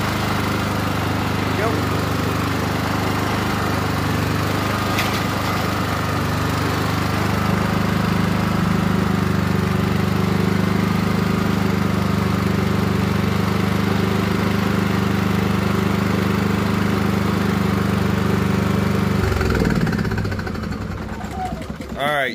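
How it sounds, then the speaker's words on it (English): Champion portable generator engine cranking without firing, a loud continuous droning rumble that stops near the end, with a person speaking briefly over it. "So now I'm going to go ahead and hit crank."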